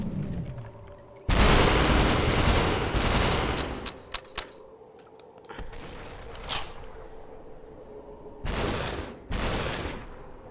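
Gunfire in the virtual reality shooter SUPERHOT VR: loud bursts of rapid shots come in several clusters with brief quieter gaps and a few single sharp cracks between them.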